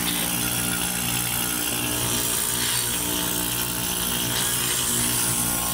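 A homemade DIY air compressor runs steadily and loudly, giving a continuous motorized whir with broad hiss and hum and no pauses, heard alone.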